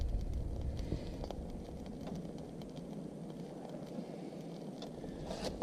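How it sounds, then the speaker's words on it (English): Wind blows outdoors beside a small wood gasifier stove, a steady rushing, buffeting noise with low rumble, fairly faint overall and without talk. "this wind is circling all over the place here"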